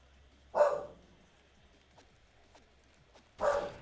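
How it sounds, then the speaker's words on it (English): A dog barks twice at a handyman, two separate, fairly loud yaps a few seconds apart, with quiet room noise between them. "my dog is still barking at the handyman"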